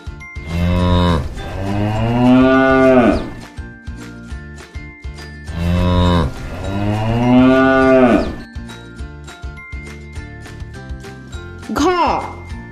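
A cow and calf moo in two long, loud, close bellows, followed by a shorter higher call near the end, with faint jingling and no talking.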